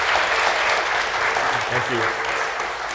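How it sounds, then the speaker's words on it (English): A conference audience applauds two panelists at a talk on DNA evidence and wrongful convictions, a full, steady round of clapping lasting about three seconds while someone says thanks over it. "Please give both of our panelists a round of applause."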